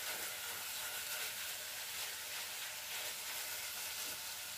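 Minced meat fries in a pan as it is broken up, giving a steady, fairly faint sizzle with no voices.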